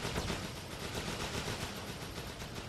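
Dense, continuous rifle and automatic gunfire in the Pacific Theater of Running With Rifles, a rapid crackling barrage that stays loud and unbroken throughout.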